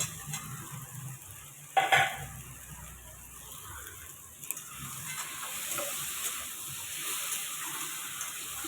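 Paneer and potato masala frying and being stirred for aloo dum, a low steady sizzle with one sharp clank of a utensil against the pan and quieter scraping afterward.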